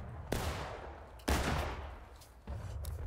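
Musket volleys in the War of Rights Civil War game, three separate loud cracks of massed fire, each rolling and fading into battlefield ambience, with no talk during the shots.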